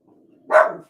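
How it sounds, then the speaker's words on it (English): A dog barking at people outside gives one close, loud bark after a faint low growl-like lead-in. "My dog has to bark at everybody."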